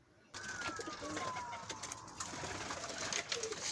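Pigeons in a coop give soft, faint coos, with a few brighter bird chirps and a thin falling whistle in a quiet space.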